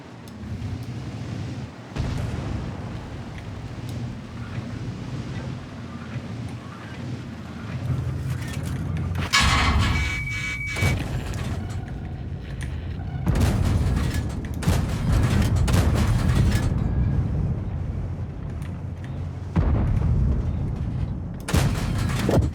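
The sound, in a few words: tank cannon fire in the video game World of Tanks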